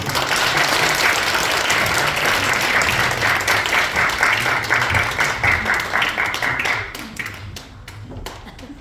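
An audience claps loudly at a church Christmas praise concert, a dense sustained applause that thins into scattered claps toward the end.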